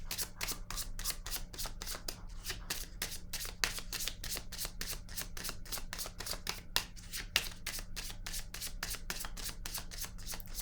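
Playing cards are shuffled and drawn by hand, a quiet, steady run of rapid flicking riffles close up, with no talking.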